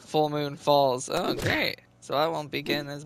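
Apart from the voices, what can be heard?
No distinct noise like a dog, phone or traffic.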